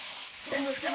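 Chopped scallion, garlic and small chili hit a hot pan beside frying luncheon meat, a brief close sizzle that swells as the aromatics go in.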